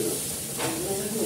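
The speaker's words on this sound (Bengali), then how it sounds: "যতটুকু ধনে পাতা ছিল এক্সট্রা, এটা সরষের তেলে জাল দিয়ে দিলাম" Leftover coriander leaves sizzle in hot mustard oil, a close, bright hiss with a sharper flare partway through, under faint talking.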